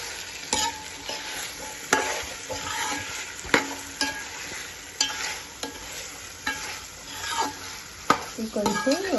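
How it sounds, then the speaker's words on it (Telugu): Potatoes frying in a pan for khichdi, a steady close sizzle broken by repeated scraping knocks of a spoon stirring against the pan. "ఇది కొంచెం ఫ్రై అయిన తర్వాత ఆలు వేద్దాం."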